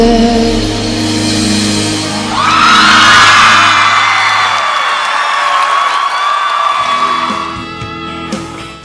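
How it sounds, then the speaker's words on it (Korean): A large audience on the American Idol audition show cheers and whoops loudly, a sustained roar that swells after a couple of seconds over music and then slowly fades. "이 환호가 어느 프로에서 나오고 있는 거죠? 아메리칸 아이돌."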